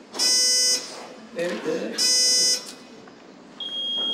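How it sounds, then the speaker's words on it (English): Quiz buzzers at a high school Knowledge Bowl competition being tested, two harsh loud electronic buzzes about half a second each, followed by a shorter different tone, with people talking between them. "Would you just test your buzzer, please?"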